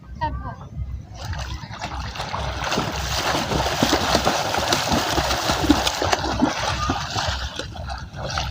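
Water splashing and churning close by as a beginner swims, a continuous rough wash of splashes with a low rumble, mixed with a voice talking through it.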